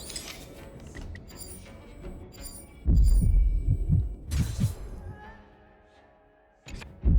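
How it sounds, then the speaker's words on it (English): Heartbeat sound effect in the Honkai: Star Rail video game, a loud, deep, rhythmic thumping pulse that swells in and fades, with soft game ambience around it. "I don't know what the heartbeat was about."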